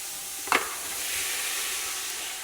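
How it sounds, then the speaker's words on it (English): Lamb meat for a Moroccan tagine dropping back into a hot pan, with one brief scrape or clatter and then a steady, close sizzle that carries on under no talking. "we're going to add the meat back in"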